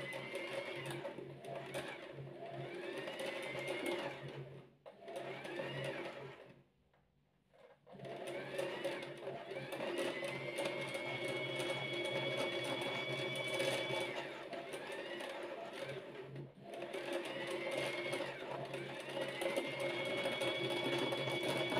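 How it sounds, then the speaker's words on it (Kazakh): Janome TC-1214 sewing machine winding thread onto a bobbin, a steady close mechanical whir with a whining tone that runs continuously, briefly stops, then resumes for a long stretch. "Біз педальды басу арқылы жіпті мына неге шпулькаға орап жатырмыз."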